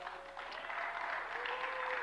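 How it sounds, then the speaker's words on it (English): A church congregation applauding a team, a sustained wash of clapping from many hands heard at a moderate distance, steady for the whole stretch. "Give them a round of applause."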